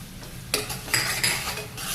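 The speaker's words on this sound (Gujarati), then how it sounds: "હવે ઘડીક વાર ચડવા દો ધીમા ગેસે હા ચડી રહી ડુંગળી" Onions and capsicum frying in oil for pav bhaji, with a utensil scraping and stirring against the pan in several clattering strokes over a steady sizzle.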